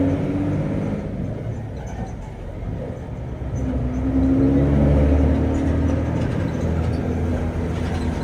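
Engine of an intercity Bumel bus on Java fitted with a loud aftermarket exhaust, a steady low rumble that swells as it picks up speed, heard from inside the cabin.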